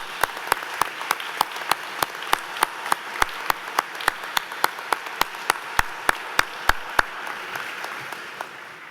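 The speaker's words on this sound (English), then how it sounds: "let's give a round of applause to Mr. Rogers." Audience at a school commencement ceremony applauds with steady, loud, rhythmic clapping that continues throughout and fades a little toward the end.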